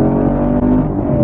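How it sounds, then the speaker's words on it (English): A 2017 Chevrolet Camaro SS 1LE accelerates in second gear from about 45 mph, its V8 roaring loud and close in a brief, continuous pull with no talk over it. "we'll do a second gear pull from 45"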